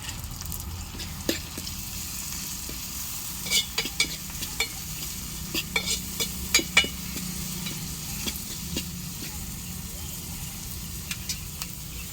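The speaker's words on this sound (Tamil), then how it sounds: "அடுத்தது தக்காளி ஆட் பண்ணிடலாம். எல்லாத்தையும் நல்லா மிக்ஸ் பண்ணிக்கலாம்." Tomatoes are stirred into a meat curry cooking on a wood-fired stove, with a constant low sizzle under repeated scraping and stirring clicks of a spoon against the pot.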